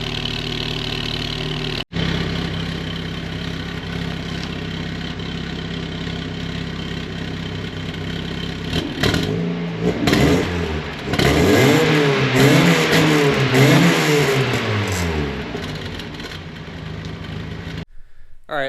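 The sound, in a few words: Mazda Spec Miata with race exhaust idling, then revving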